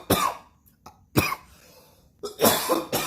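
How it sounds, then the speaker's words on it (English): A man coughs in harsh, loud bursts close to the microphone, with a cluster of coughs at the start, another burst in the middle and a double cough near the end, separated by short quiet gaps. "I can't stop coughing."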